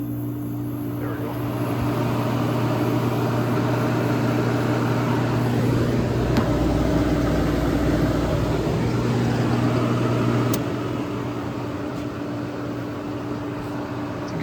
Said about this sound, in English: AE compressor, constant run